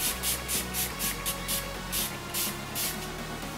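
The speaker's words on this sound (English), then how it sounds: "take this spray here from Ole Henriksen. It's a energize and hydrate kind of spray" Ole Henriksen Energize and Hydrate face mist pumped in a quick series of about a dozen short, close spritzes, each a bright airy hiss, with slight pauses between bursts.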